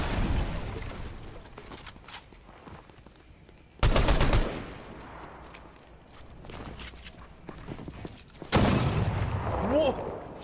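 Gunfire in Fortnite Chapter 5, with sharp, loud bursts of shots around four and nine seconds that stand out over lighter game sounds and footsteps between them.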